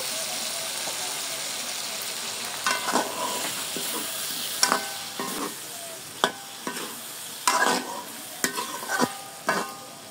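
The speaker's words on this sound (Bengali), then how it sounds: "বন্ধুরা এখন কেটে ধুয়ে রাখা টমেটোগুলো দিয়ে দিব।" Cut tomatoes go into a frying pan with spices for a thin sarputi fish curry and are stirred, so a soft background sizzle sits under scattered sharp spatula scrapes and clinks, with no voices.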